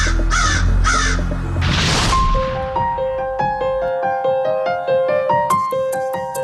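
A black crow gives two loud, harsh caws up close, after which a burst of noise leads into a melodic tune with plucked notes.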